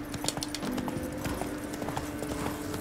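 Hoofbeats of the horse Roach galloping in The Witcher 3 video game, a steady rapid clip-clop rhythm that carries on throughout at close range, with no talk.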